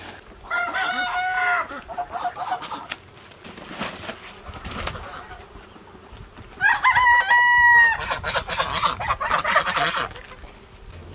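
Chickens cluck and a rooster crows loudly at a chicken coop, clucking in bursts with a nearby crow partway through over a steady outdoor background.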